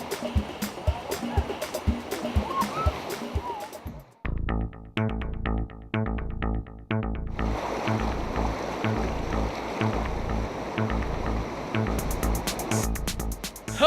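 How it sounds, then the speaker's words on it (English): Rushing river rapids and splashing waves during whitewater rafting on the Khek River in Thailand, loud and continuous, with a sudden break and rhythmic churning, faint voices mixed in. "The waves were getting higher and higher. Some cataracts were flowing like a rainfall."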